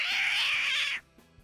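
A voice imitates a cat, letting out a single loud, strained yowl or screech for about a second during a mimicked dog-and-cat fight, followed by quiet.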